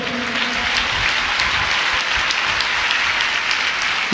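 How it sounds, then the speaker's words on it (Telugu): A church congregation at a Hosanna Ministries service applauds loudly, with dense, sustained clapping that fills the whole stretch at an even level and does not fade. "బిగ్గరగా ఒక చప్పట్లు కొడదాం."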